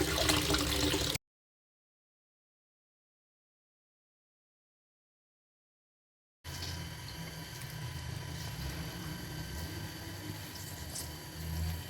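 Water running over homemade paneer to rinse out vinegar, a brief rushing splash, then silence, then a steady hissing flow of tap water that continues to the end.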